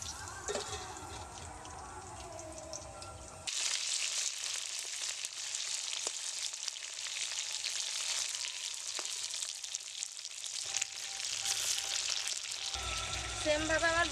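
Small pointed gourds (potol) fry in oil in a pan, a continuous crackling sizzle that swells louder once the lid comes off, with faint stirring clinks and brief quiet talk at the start.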